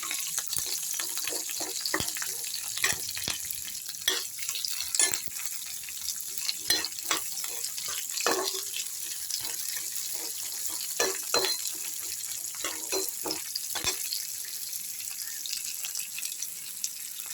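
Curry leaves, onion and garlic sizzle in hot oil in a pan just emptied of fried fish, for a village-style Bengali fish and ash gourd curry; a steady, close crackle runs throughout, broken by sharper spatters and stirring clicks.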